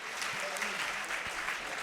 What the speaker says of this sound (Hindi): इसके लिए भरपूर तालियां होनी चाहिए कराची लिटरेचर फेस्टिवल के लिए